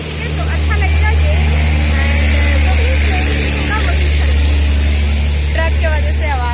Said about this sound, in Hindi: ट्रक की वजह से आवाज में सुनाई दे रहा था।